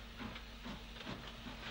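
Narrow gauge steam locomotive on a 3-foot gauge line in Ireland starting away with a goods train, giving steady hissing steam and rhythmic chuffing beats at moderate distance, with no talk.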